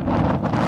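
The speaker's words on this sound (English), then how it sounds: "It's really windy" Strong wind gusting at the base of the Sierra Buttes lookout tower staircase, buffeting the microphone with a loud, steady roar and no voices.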